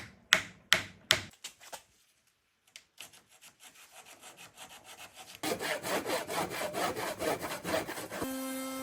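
A saw cuts wood for the sides of a box with a corner butt joint. A few sharp strokes come first, then a pause, then a steady run of rhythmic rasping strokes that builds louder, up close.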